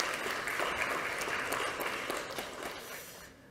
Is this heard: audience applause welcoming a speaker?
yes